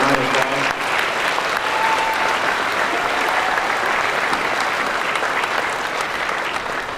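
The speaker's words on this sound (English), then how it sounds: "let's give them a round of applause" A graduation crowd gives university staff a round of applause: broad, continuous clapping from a large audience, even and sustained throughout.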